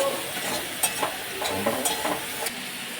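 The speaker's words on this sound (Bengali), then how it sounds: "মশলাটা কষিয়ে দিই, তারপরে মাছের মাথাটা দেবো।" Spice masala of cumin powder, turmeric and salt sautéing in oil, a soft continuous sizzle with a few light stirring scrapes.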